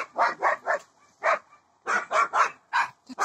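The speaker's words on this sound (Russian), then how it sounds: "собака балуется" A dog barks in quick bursts of two and three sharp yaps, with short silent gaps between, fairly close and fairly loud.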